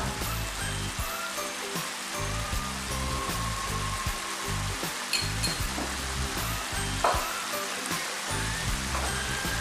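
Anchovy sizzling and melting in hot oil in a pan, giving a continuous crackling hiss with scattered pops and occasional utensil clicks, fairly quiet and close.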